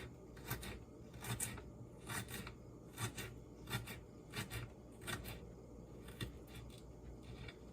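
A pepper being cut up for sweet Thai pepper sauce, a series of soft close knife strokes and crunches in an uneven rhythm, about a dozen cuts, fairly quiet with no talk.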